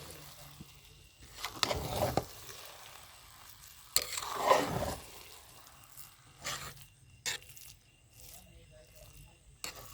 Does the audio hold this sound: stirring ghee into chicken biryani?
yes